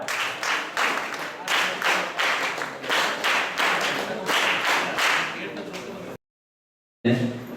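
A gathering at a de-addiction camp closing ceremony claps in steady rhythmic unison bursts, loud and close, then a brief silence before a voice starts speaking.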